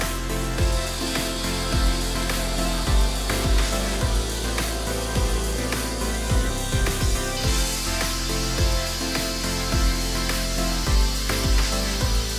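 Continuous grinding whine of a masonry saw cutting through clay brick, with repeated low thumps and rattles throughout, steady and fairly loud.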